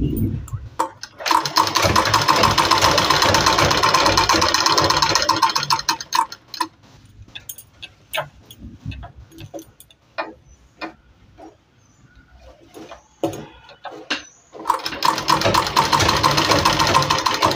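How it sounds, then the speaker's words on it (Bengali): A sewing machine stitches palazzo pants with a half-inch seam in loud, rapid mechanical bursts, pausing in the middle for scattered ticks and handling clicks before running steadily again. "একটার উপরে একটা রেখে এটাকে 1/2 ইঞ্চি গ্যাপিং দিয়ে প্রথমে সেলাই করে নেব"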